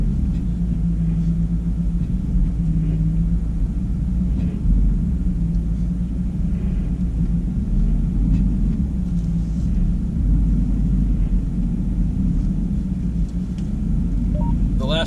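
A Jeep crawls slowly along a Colorado mountain trail while towing a dead Jeep JK, its engine giving a steady, continuous low rumble that stays close and even throughout, with no talk over it.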